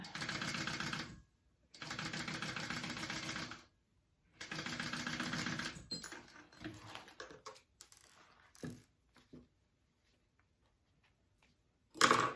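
A sewing machine stitching a seam on a small crossbody bag with no zipper foot, in three steady bursts of rapid stitching separated by short pauses, then scattered quieter clicks and a final brief burst.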